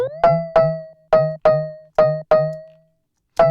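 Short synth notes that bend in pitch, plucked one after another with small gaps, bright and upfront, then a pause before a final note.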